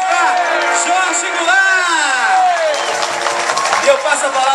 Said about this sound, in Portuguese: Uma salva de palmas para Jorge